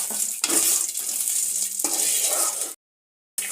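Spices are fried in oil in a pan for village-style chicken sambar. A loud, close sizzle with scraping stir strokes cuts out briefly near the end and then resumes.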